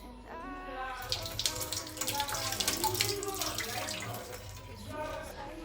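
Tap water runs steadily into a kitchen sink while grapes are washed, a close splashing, trickling stream with someone talking over it for most of the stretch.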